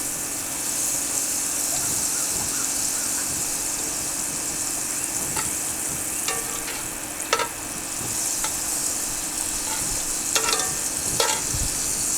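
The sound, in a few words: butter sizzling in a Dutch oven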